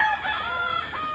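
A breeding rooster crows once, loud and close, in a short single call.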